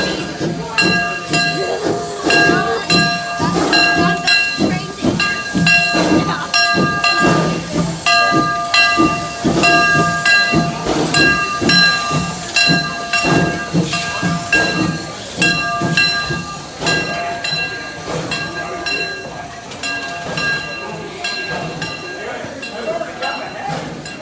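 Train ride at the Hesston train museum, with a steam locomotive chuffing rhythmically and hissing over steady rolling rail noise, whistle-like tones ringing through, loud and near, with a voice talking over it.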